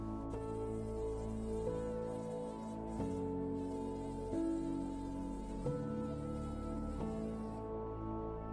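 A housefly buzzes continuously close to the microphone, its whining drone shifting pitch in steps as it moves, with no talk.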